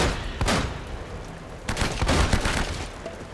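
Several sharp gunshot bursts crack out in quick clusters in Uncharted: Drake's Fortune, loud and close, with a scattered volley of rapid shots in the second half.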